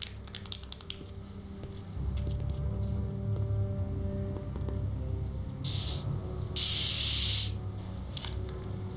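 Spray can spraying in the Back to the Future video game: a short hiss followed by a longer, louder burst late on, after a stretch of tapping keyboard-like clicks over a low game hum.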